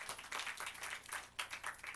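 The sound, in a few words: applause, people clapping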